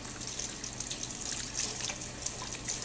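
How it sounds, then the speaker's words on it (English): Water runs steadily from a tap as hands are washed, a continuous hissing splash with small gurgling variations, fairly faint and with no talking. "So go ahead and wash your hands, even when you're doing any of the dishwashing jobs."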